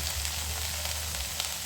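Onions frying in a pan for mutton curry, a continuous close hiss and crackle of sizzling oil, steady and even throughout with no voices.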